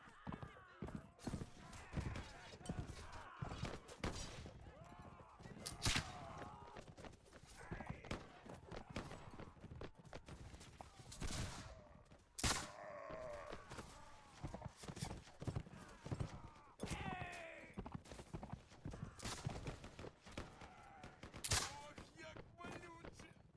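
Horse hooves clip-clop in the medieval battle game Mount & Blade: With Fire & Sword, mixed with repeated gunfire bursts and steady battle noise, with someone talking over it.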